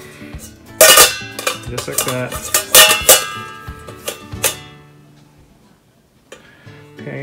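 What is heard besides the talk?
stainless steel steamer insert placed in cookware pot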